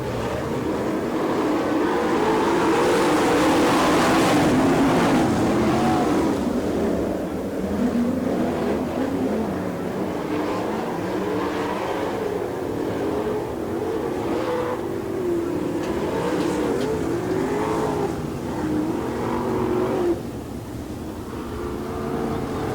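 Super sprint cars roar around the Lawrenceburg, Indiana dirt oval in an All Star Circuit of Champions heat race, a loud, sustained engine drone that swells and shifts as the pack rips past, with no break throughout.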